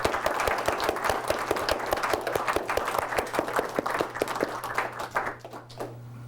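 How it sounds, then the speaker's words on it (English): Audience applause for photographer David Heusinkveld at a History for Lunch talk on Amana landscape photographs, a steady patter of hand claps from a modest crowd that thins and fades out toward the end, with a low hum beneath. "let's give David a round of applause"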